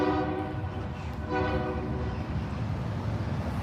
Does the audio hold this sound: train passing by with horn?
yes